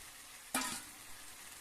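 A spatula scrapes once through jackfruit, shrimp and potatoes with spices in a hot pan, giving a brief sizzling stir that fades into a quiet background hiss.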